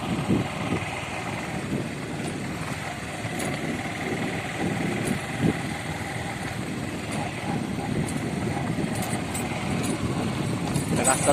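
A motorbike ridden one-handed along a rough red-soil village road gives a steady, close, low engine drone that stays continuous throughout, with small bumps and rattles.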